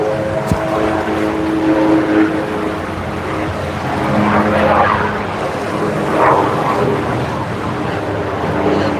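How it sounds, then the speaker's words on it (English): Magnum PI helicopter flying overhead in Hawaii, a loud, continuous rotor and engine drone with a steady tonal hum that swells and fades slightly over nine seconds, heard outdoors with no talking. "There's the Magnum PI helicopter."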